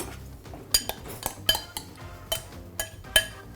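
Mascarpone worked in a bowl with a utensil, giving a series of sharp clinks and knocks at irregular intervals over a soft background, close and fairly clear, with no talking.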